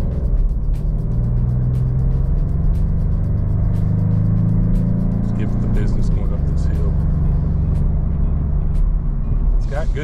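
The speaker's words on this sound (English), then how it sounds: "Yeah, she sounds good for V6." A 2024 Maserati GranTurismo Modena with a V6 engine accelerates, its loud, continuous engine note climbing steadily, easing briefly near the middle and rising again, with a voice heard faintly at times.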